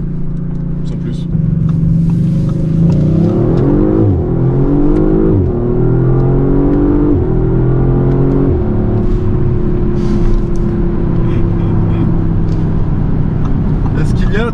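Engine and exhaust of a 2022 Audi RS5 with 450 hp under acceleration, a close rising drone with low gurgling burbles, rising and falling in pitch across several pulls, with someone talking over it throughout.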